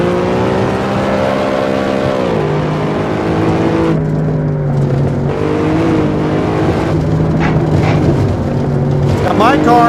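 Cadillac CTS-V engine in the Assetto Corsa racing game, driven in VR: a loud, steady engine drone whose pitch climbs and dips through gear changes, with brief tire or road noise near the end.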